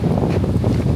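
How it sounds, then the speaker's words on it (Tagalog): Strong wind gusts roar steadily across an outdoor microphone in a Dutch neighborhood near open water, a continuous low buffeting rumble with no talk. "grabe talaga ang hangin"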